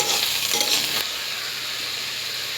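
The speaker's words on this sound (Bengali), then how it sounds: "তার সাথে ডাঁটাগুলো, আর আমার গাছের কাঁচা পাকা 4-5টা লঙ্কা চিড়ে। সব সবজিগুলোকে সুন্দর করে কষিয়ে নেব।" Drumstick pieces and green chillies stir-fried with vegetables in a hot pan for a potato and pumpkin dish, a steady close sizzle with busy stirring and scraping that eases after the first second into a softer, continuous frying hiss.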